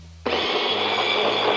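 A Maxomix hand blender switches on abruptly and whirs steadily at high speed, blending cilantro, olive oil and salt into an emulsion; the motor noise is loud, close and continuous after a quiet start.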